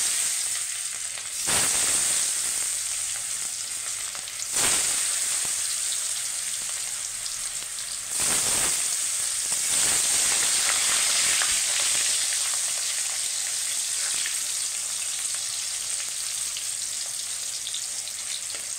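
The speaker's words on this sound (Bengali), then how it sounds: "এই যে আমার তেলটা গরম হয়ে গেছে, এবার আমি শসাগুলো আগে ভেজে নেব" Cucumber pieces frying in hot oil give a loud, continuous crackling sizzle with a few brief dips, as if stirred, lasting throughout with no voices.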